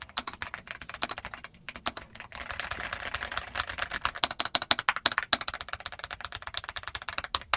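A Keychron Q1 mechanical keyboard with Gateron Jupiter switches and foam dampening is typed on up close, a fast, steady patter of muted, thocky keystrokes.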